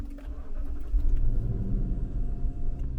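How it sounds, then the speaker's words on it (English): A Lexus LX570 engine turns over and settles into a steady, loud low rumble heard from inside the car, with no talking. "I'll start my engine."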